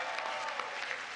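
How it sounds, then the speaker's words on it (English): Audience at the White House Correspondents' Association dinner applauding and cheering steadily, a dense wash of clapping from a large crowd with no talk over it. "Yes, you are cheering for furniture."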